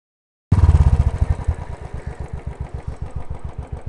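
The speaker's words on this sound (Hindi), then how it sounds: "बाइक अपने आप चल रही है" A Royal Enfield motorcycle engine idles after sudden onset, with a heavy opening burst followed by a steady, low, loping thump close by and no voices.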